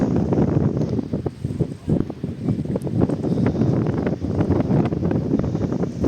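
Strong mountain wind on Crete buffeting the microphone in a continuous low roar with gusty fluctuations, loud and close, no talking.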